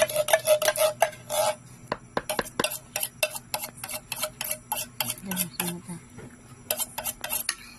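Condensed milk and Nestle cream being stirred for a mango float, with a utensil tapping and scraping the bowl in quick repeated clicks, loud and close, with brief pauses.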